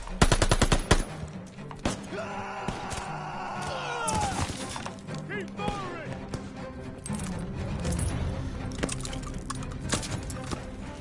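Machine gun fire from the Call of Duty Vanguard video game sounds in rapid loud bursts amid battle noise, explosions and shouted voices.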